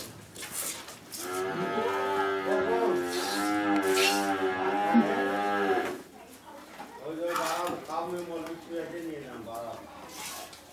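A dairy cow on a farm gives two long, loud, close moos, the first stretching several seconds and the second following after a short pause.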